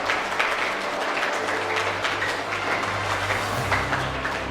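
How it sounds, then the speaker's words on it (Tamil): An audience applauds at a children's Bhagavad Gita competition prize announcement, a steady, dense clapping that holds for several seconds with no break. "எல்லாருக்கும் சேர்த்து ஒரு பாராட்டு, நல்ல பலத்த கரகோஷம்."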